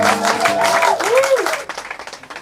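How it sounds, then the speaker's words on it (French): Audience at a French slam poetry evening claps as the applause fades out, mixed with a voice calling out over it. "Est-ce qu'on peut encore faire un tonnerre d'applaudissements?"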